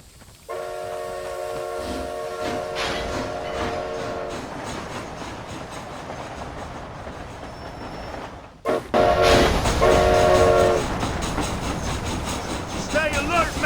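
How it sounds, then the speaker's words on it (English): A train rolling along the tracks in the Red Dead Redemption: Undead Nightmare video game, a loud steady rumble with horn-like tones, growing louder and busier partway through. "This train headed for Mexico?"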